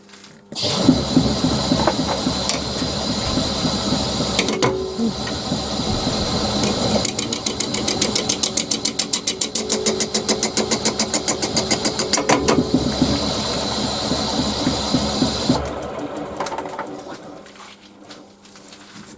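A wood lathe turns a live edge goblet at about 430 RPM, a steady machine hum with a rapid rhythmic chatter of the tool cutting wood through the middle, then winding down near the end; no talking.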